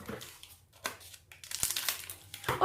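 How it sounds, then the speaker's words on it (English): A chocolate bar's wrapper is opened in a kitchen while a milkshake is being made, giving a series of quiet, close crinkles and tearing rustles in irregular bursts. "Now we're gonna open our chocolate."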